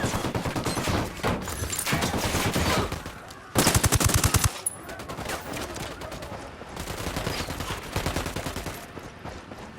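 Sustained automatic gunfire in the Ghost Recon Wildlands video game, dense rapid bursts rattling continuously with a sharper, louder volley midway, loud and close throughout.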